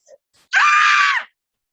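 A storyteller performs a single loud, sustained scream lasting under a second, close and alone after a brief quiet pause.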